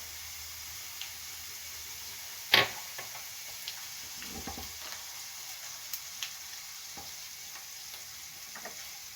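Softened onions with tomato paste fry quietly in a pan, a faint steady sizzle broken by a sharp utensil knock and occasional light scrapes and ticks of stirring, no voices.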